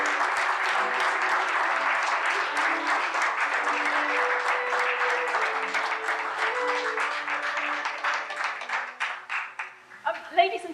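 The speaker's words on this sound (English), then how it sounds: "can you give a warm round of applause for all your performers?" Large studio audience at a charity comedy telethon claps in a sustained, dense round of applause for the performers, tapering into scattered claps near the end.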